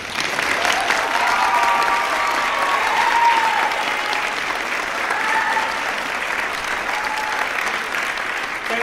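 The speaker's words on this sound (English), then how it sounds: "I would love for you all to give them an opening round of applause" Sustained applause from an audience at a school winter instrumental concert, a dense continuous wash of clapping that swells slightly midway and carries on evenly throughout.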